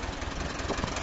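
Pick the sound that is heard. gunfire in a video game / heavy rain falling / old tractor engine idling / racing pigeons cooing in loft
old tractor engine idling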